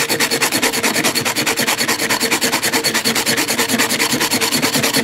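A metal can scraped and ground against a rough surface to open it without tools, giving a steady, rapid rasping rhythm of close, loud back-and-forth strokes that continues without pause.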